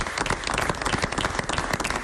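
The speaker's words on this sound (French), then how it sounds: "applaudissements pour le professeur Pujol" A studio audience gives a professor a dense, steady round of applause from start to finish, with many hands clapping at once and no voices standing out.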